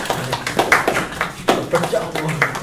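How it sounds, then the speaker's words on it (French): An audience claps for a young woman, with quick rhythmic claps running under a loud voice that talks throughout. "On applaudit cette demoiselle, s'il vous plaît."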